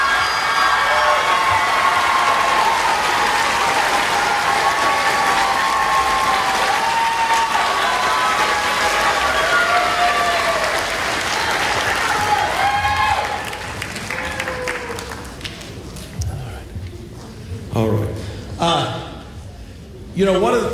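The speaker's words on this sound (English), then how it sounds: "Let's give these guys a round of applause" A school audience applauds high school band students at a Christmas concert, loud sustained clapping and some cheering that fades out after about thirteen seconds, followed by softer room noise and a few scattered sounds.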